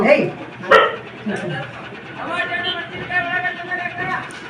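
A dog barks a few times at a distance in a village, sharp yips and short barks mixed with people talking nearby.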